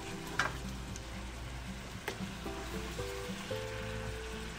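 Adobo sizzles steadily in a frying pan as it is stirred, with a few scraping clinks of the utensil against the pan and a constant close crackle.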